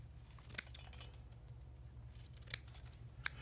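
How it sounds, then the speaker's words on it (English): Scissors cutting floral foliage stems at an angle for an arrangement: three crisp, isolated snips spaced a second or two apart, quiet, over a faint low hum. "we can take it and make it even more interesting by cutting it at an angle"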